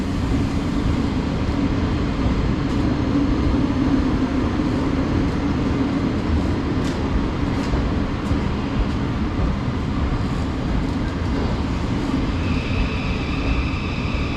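A passenger train on the ECML South line arrives at a station platform, giving a loud, steady rumble and rolling wheel noise with faint squeals and a rising tone near the end.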